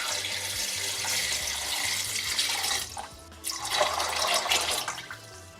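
Water pours steadily into a large cooking pot over dried beans, a continuous rushing splash that briefly dips and then resumes, close and moderately loud with no talking.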